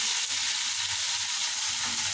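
Boiled taro stolons go into a pan of lightly fried onions, setting off a steady close sizzle of hot oil with faint stirring scrapes.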